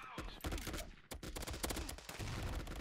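Rapid automatic gunfire rattles from the mobile first-person shooter Fire Strike, dense and close with quick repeated shots packed tightly and barely a pause, with a voice faintly underneath.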